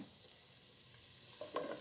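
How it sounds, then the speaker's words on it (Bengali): Spices fry in hot oil in a pan, a quiet steady sizzle with a couple of soft stirring knocks near the end, no talking. "এখন আমরা আরেকটা প্যানে এই যে তেল দিয়ে এই মশলাগুলো দিলাম।"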